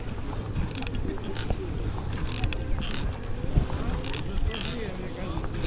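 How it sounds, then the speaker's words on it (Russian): A stand-up paddleboard on a river, towing five other SUP boards upstream against the current, with steady water wash and repeated paddle strokes, plus wind buffeting the microphone and a voice speaking now and then. "Вот сейчас потащу 5 сапов."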